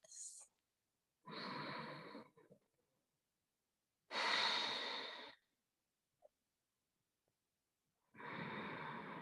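Slow, deep breathing during a yoga session, with three long, loud breath sounds spaced a few seconds apart and a short faint breath at the start, heard alone in a quiet room.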